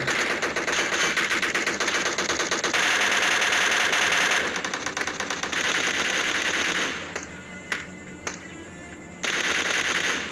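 Rapid automatic gunfire in a PUBG Mobile fight, dense loud bursts of shots that run continuously, then give way to a few scattered single shots before another burst resumes, with no talk.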